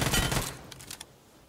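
Gunfire in the mobile shooter PUBG Mobile: a dense, loud burst of rapid shots up front, then a few scattered single cracks that die away into quiet.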